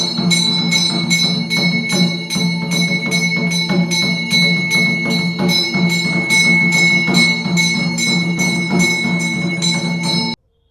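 A temple bell rung during aarti puja before a Shiva lingam in Chail, struck in a steady repeated rhythm of bright, ringing metallic strikes that hold loud and close for about ten seconds, then stop abruptly.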